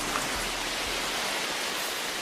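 Steady rain falls in the Brazilian Amazon rainforest, a dense, even hiss of drops on foliage without any voices.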